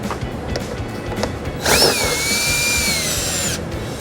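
A power driver fitted with an 8mm socket whirs up briefly, backing out screws during a 2014 Ford Escape trailer wiring install; one steady close-up run lasts about two seconds over quiet shop background.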